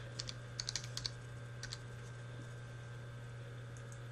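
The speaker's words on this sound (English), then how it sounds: "Right here we're going to type in library" Typing on a computer keyboard while entering a library search on a college homepage: a few quick, faint clicks in a short burst near the start, then sparse taps over a steady electrical hum.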